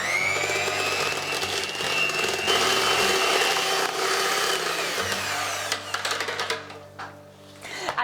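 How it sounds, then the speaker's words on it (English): An electric mixer whirs steadily while whisking Basque cheesecake batter, a loud continuous drone that changes pitch near the end as the batter loosens and the motor slows and stutters. "So we can just add all of that at this point so that we can whisk it all in."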